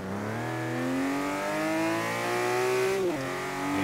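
A TVR Sagaris in Forza Horizon 3 climbs steadily through the revs in one gear, a loud, close engine whine that drops sharply at a gearshift and then resumes rising.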